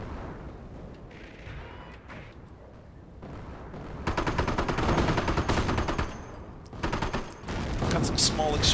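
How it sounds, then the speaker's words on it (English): Nebelwerfer rocket barrages and gunfire in a Company of Heroes battle, with dense crackling volleys and booming salvos that swell loudly in the second half, under a background of ongoing combat. "Looks like the Nebelwerfers are going off."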